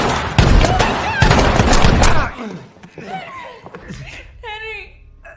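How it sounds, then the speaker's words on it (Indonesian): Gunfire in a horror film shootout, with bursts of loud rapid shots in quick succession up close, then quieter voices and a laugh-like sound as the shooting stops. "Baku tembak pun terjadi antara Henry dan James."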